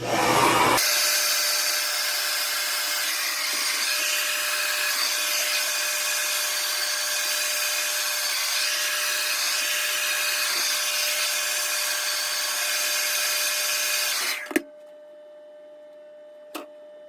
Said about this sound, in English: I feel like they just lay better, so that's how I'm gonna blow dry them.